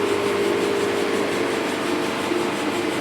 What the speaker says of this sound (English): Shave this a little bit. I want to get a good flat.